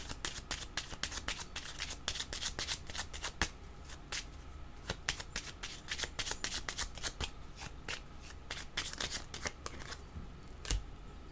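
Tarot cards being shuffled by hand up close, a dense run of quick crisp riffling snaps and slaps repeating steadily throughout, no talking.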